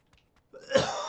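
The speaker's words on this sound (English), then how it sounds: "Coughing fit, sorry." A short coughing fit: a couple of faint throat sounds, then a rough, loud cough bursting out close to the microphone.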